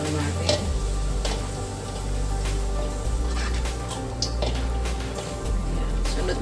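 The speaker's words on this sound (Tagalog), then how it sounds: "Ay, kawali, lagyan na natin yung bawang natin." Garlic frying in a hot pan for arroz caldo with chicken, a continuous close sizzle with occasional clinks and stirring, no talk over it.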